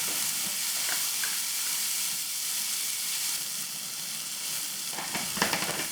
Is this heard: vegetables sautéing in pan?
yes